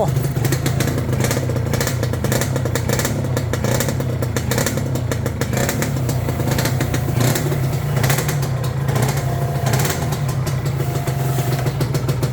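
A 1990s Yamaha TZR two-stroke motorcycle engine runs close by, a raspy steady idle with crackling, clattery texture throughout.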